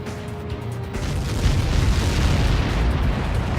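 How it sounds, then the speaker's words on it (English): A missile impact explosion in the video game Ace Combat 7 rumbles as a heavy, sustained boom with dense low roar building and holding for several seconds, loud and close. "How many got caught in that explosion?"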